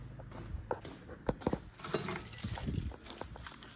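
Car keys for a BMW G30 540i jangling close by in a garage, a short burst of bright metallic rattles and clinks growing busier toward the middle, with no talking.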